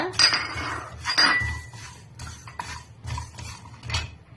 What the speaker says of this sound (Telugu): ఇవన్నీ ఇందులో వేసేసి మనం కొద్దిగా లైట్గా వేపుకుందామండి